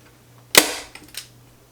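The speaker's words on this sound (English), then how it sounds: "now I'm going to put staple at the top" A staple gun fires one sharp snap into grill cloth stretched over a speaker frame, followed by two fainter clicks, close up in a quiet room.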